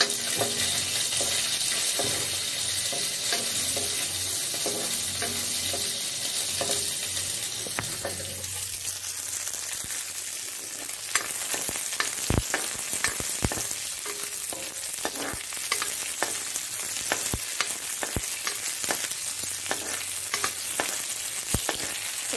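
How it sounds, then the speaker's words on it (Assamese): Small puthi fish with onion fry in a pan, giving a continuous loud sizzle. Frequent sharp clicks and scrapes of stirring run through it, with no talking. "এতিয়া এইখিনি ভাজি ল'ম।"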